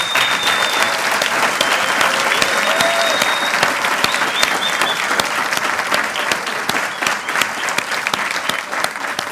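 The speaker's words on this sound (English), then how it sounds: "Let's give Professor Ade-Ibijola another round of applause." A crowd applauds Professor Ade-Ibijola at a professorial inauguration at a Johannesburg business school, dense sustained clapping throughout, loud and steady, with a few faint voices underneath.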